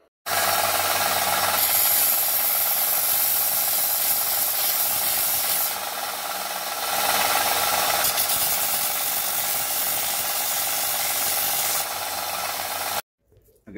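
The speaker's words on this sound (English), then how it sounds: "I'm just going to square it up a bit to make it a bit, more cylindrical on the disc grinder over here." A disc grinder shapes a discarded beef soup bone into a cylindrical bead, giving a loud, steady abrasive grinding rasp that swells and eases in pressure for about thirteen seconds before cutting off, with no talking.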